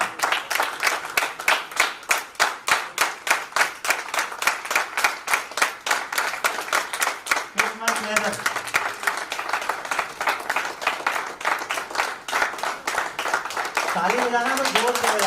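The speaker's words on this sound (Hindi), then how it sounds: "ताली बजाना तो जोर से बजाओ, नहीं तो जोर से।" An audience at a company event claps in a fast, rhythmic unison beat, loud and close. Voices briefly call out over the clapping partway through and again near the end.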